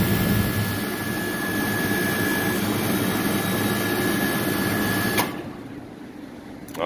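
A refrigeration system hums steadily at close range while being pumped down, with a high whine fading after a few seconds, then the unit shuts off abruptly near the end, leaving a quieter background.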